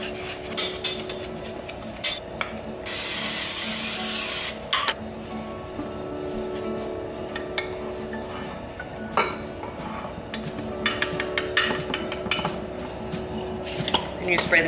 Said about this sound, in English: And you spray the top with oil as well.